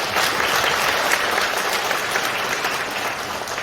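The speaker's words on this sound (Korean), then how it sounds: "박수 보내주십시오." Dense, continuous audience applause fills a hall at a Korean party members' training event in Gumi, holding steady and loud throughout.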